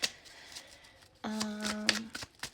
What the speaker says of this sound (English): So I actually just did like a really good shuffle on them